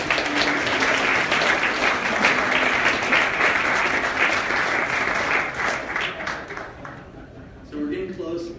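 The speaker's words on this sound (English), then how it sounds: "Please, round of applause for them." Audience applause for event sponsors at a young entrepreneur convention, a dense sustained clapping from a large crowd that fades toward the end as a voice begins speaking.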